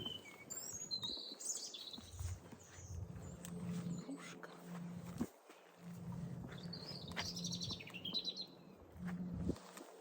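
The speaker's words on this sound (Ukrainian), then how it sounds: "пташечки, пташечки." Small birds chirp and twitter in quick bursts, fairly close, in a flowering monastery park, over a low rumbling background with occasional thumps.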